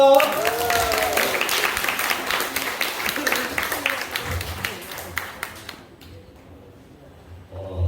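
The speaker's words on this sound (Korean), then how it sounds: "박수로 환영합니다." Congregation applause welcoming a pastor at a celebratory church worship service in Gwangmun Full Gospel Church, dense clapping mixed with voices for about six seconds before thinning out.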